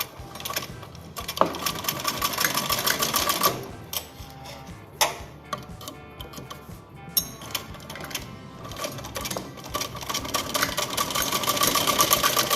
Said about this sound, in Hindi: और इसको हम अब ऐसे यूँ पलट देंगे और इसके ऊपर भी हम ऐसे सिलाई लगा देंगे।